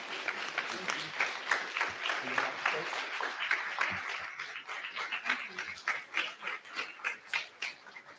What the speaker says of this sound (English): Let's give President Osili a round of applause